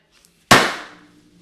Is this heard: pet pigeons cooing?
no